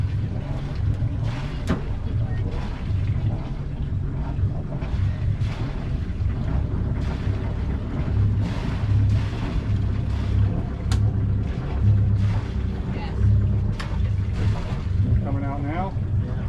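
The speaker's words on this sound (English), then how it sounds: "so now go ahead and put the boat in reverse." A sailboat's engine idles in reverse as the boat backs away from a dock, a steady low hum with wind noise and occasional clicks, while people talk over it throughout.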